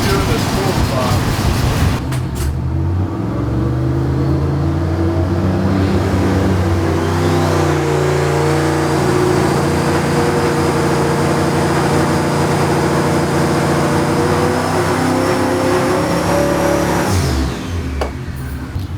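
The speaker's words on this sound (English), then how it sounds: "It's just misfiring real bad." A tuned car engine on a dyno revs hard and holds high, its rough note stumbling with a bad misfire for many seconds before dropping back to idle, loud and close, with voices talking over it.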